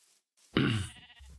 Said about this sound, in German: da war doch auch noch ein Schaf, das geschoren werden möchte